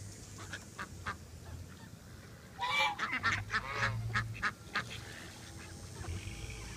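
Geese honk loudly at a pond alongside ducks, several close harsh honks bunching together in the middle of the stretch with a few softer calls before and after.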